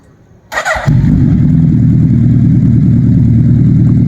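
A Suzuki Hayabusa sport motorcycle engine cranks and catches after a brief click, then settles into a loud, steady rumbling idle up close.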